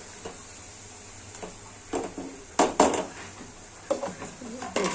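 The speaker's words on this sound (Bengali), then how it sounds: "মাছটা ভালো করে কষাই নিব।" Prawns sautéing in a pan with garlic paste and salt, a low sizzle under a series of distinct scraping stir strokes that grow louder and more frequent toward the end.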